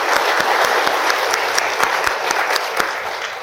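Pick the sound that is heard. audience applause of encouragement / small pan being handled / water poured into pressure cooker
audience applause of encouragement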